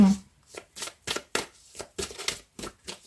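Tarot cards are shuffled during a card reading, producing about ten quick, crisp riffling bursts in a steady rhythm, close and fairly loud with short pauses between them.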